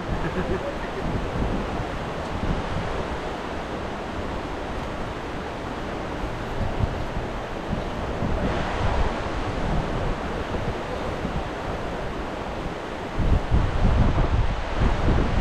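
Strong, steady wind roars across the microphone for the whole stretch, a dense rushing blast that swells louder near the end, with no voices.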